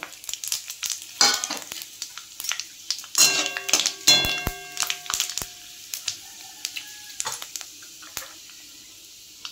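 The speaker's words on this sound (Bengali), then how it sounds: "ফোড়নে দিচ্ছি এই দু টুকরো তেজপাতা আর হাফ চামচ 5 ফোড়ন।" Bay leaves and five-spice (panch phoron) dropped into hot oil for a vegetarian bitter gourd kofta curry, crackling and sizzling close up in bursts, with a few sharp pops and utensil clinks, no talking.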